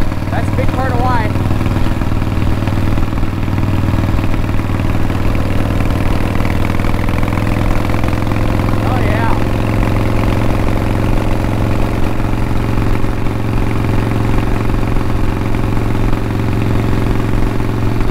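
Harley-Davidson motorcycle with open drag pipes idling steadily, a constant low rumbling throb throughout, close and loud, with someone talking over it.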